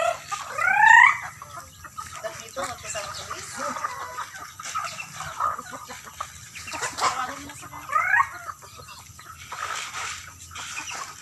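Chickens and young chicks cluck on a farm, with a loud burst of clucking at the start and another around the eighth second over a busy outdoor backdrop of faint scattered bird calls.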